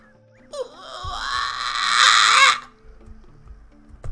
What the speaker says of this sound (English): Just listen to the monkeys.